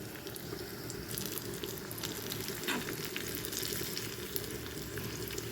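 Byadgi chili and urad dal fry in hot tempering oil for a jackfruit curry, giving a steady, close, dense sizzle that runs unbroken without talk.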